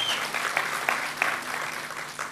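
Audience clapping at a film and music event in Gura Humorului, a steady wash of applause with a few sharper claps standing out, fairly distant and moderately loud.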